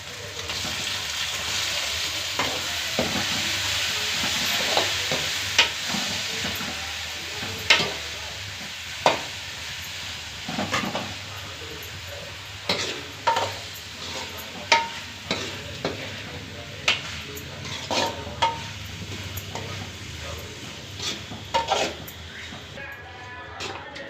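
Prawns frying with curry leaves for a prawn curry, a steady sizzle in the pan broken by repeated sharp clinks and scrapes of a spoon stirring, close and moderately loud.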